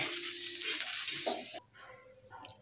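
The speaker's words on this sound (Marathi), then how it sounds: "आता हे सर्व मसाले 1 मिनिटभर याच्यामध्ये परतून घ्यायचे आहेत" Green chilies with spices sauté on a tawa, a bright, close sizzle that cuts off abruptly partway through, leaving only faint low kitchen noise and a soft clink, with no voices.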